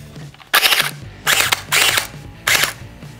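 A UKARMS airsoft assault rifle fires on full auto in four sharp bursts, each a rapid rattling run of shots separated by brief pauses, loud and close.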